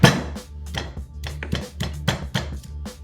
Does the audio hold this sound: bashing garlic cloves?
yes